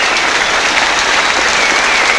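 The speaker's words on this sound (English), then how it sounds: "here's the applause for the Tongans as they leave the scene here at Ballymore" A crowd applauds at a 1973 rugby match at Ballymore in Australia after Tonga beat the Wallabies, a dense and steady wash of clapping with no voices.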